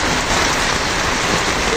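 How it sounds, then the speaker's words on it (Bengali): Hard rain falls on surfaces in Salt Lake Sector Five, Kolkata, a thick, constant roar close by, with no pauses and no talking. "জোরে বৃষ্টি হচ্ছে।"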